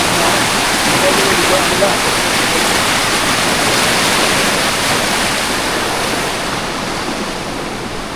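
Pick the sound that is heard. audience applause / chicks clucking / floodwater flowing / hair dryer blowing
floodwater flowing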